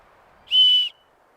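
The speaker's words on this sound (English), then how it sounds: "Within the fire steel itself, if you loosen that up, there you're going to find a whistle." A small survival whistle kept inside the handle of a fire steel on a compact military folding shovel gives one short, steady, shrill blast of about half a second in an otherwise quiet setting.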